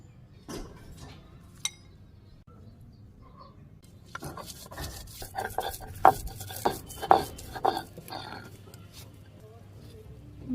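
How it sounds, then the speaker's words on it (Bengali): Fried stem greens are ground on a stone slab with a stone roller, starting quietly with a few isolated knocks, then turning into rhythmic, fairly close rasping strokes and thuds repeated several times. "এখন এই যে ডাটা শাকগুলো ভাজি করে রাখছি, এগুলো এখন বাইটে নিমু। তো এই পাটের মধ্যেই বাটুমু"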